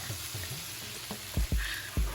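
Minced garlic sizzling with potatoes in a pan for a breakfast burrito, a steady fry hiss close by, with several low thumps and spatula knocks toward the end.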